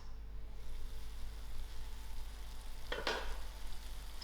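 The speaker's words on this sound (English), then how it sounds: "I will allow this to simmer without mixing" Tomato rice topped with butter simmers in a pot, a soft, steady sizzle and bubbling under a constant low hum, with one brief louder clatter partway through.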